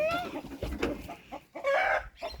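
Backyard hens clucking close by, a few short bursts of bird calls with brief pauses between them, while chicks are hatching in the coop.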